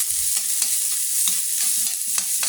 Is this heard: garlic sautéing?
yes